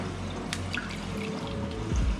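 Bacteria solution poured into a saltwater aquarium, a soft steady trickle and drip of liquid running into the tank water, close and continuous, with a slightly heavier splash near the end.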